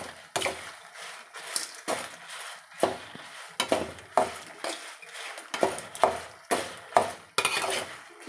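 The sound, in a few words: chillies being stir-fried in a pan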